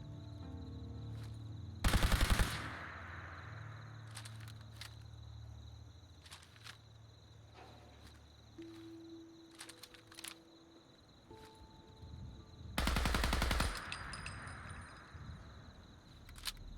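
Machine gun fire in Fallout 4 comes in two loud, sharp bursts set well apart, over a steady background of game ambience and faint chirping tones.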